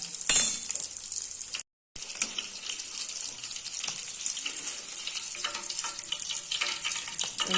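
Peanut and potato fasting cutlets fry in hot oil with a dense, steady crackling sizzle up close, briefly cut by a moment of silence, with no talking.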